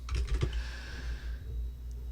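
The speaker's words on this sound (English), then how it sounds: "Start typing." Quick keystrokes clatter on a computer keyboard as someone types in a word processor, a short burst of clicks up front giving way to a quiet electronic hum.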